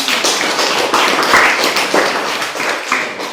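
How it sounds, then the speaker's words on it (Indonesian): Students in a science classroom clap together briefly, a close, fairly loud burst of hand claps that stays steady for a few seconds. "Tepuk tangan dulu buat kalian."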